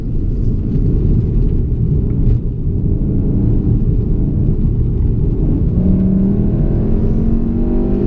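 A VW Golf R engine accelerates on a figure-eight track, a steady loud rumble close up with rising engine tones as it pulls out of a corner, with no talk over it.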